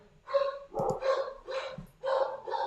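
A dog barks excitedly in the background, a quick run of five or so muffled barks at steady intervals, moderately distant, with no voices over them.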